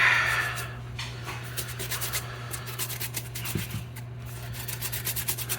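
Detergent is scrubbed into a cap by hand during cleaning, a steady close-up rhythm of soft rubbing and scratching strokes over a low constant hum, with no talking.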